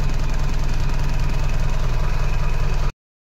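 A motorcycle engine idles and runs steadily with a close, even, rapid putter on a cold morning, then cuts off abruptly near the end; no talking.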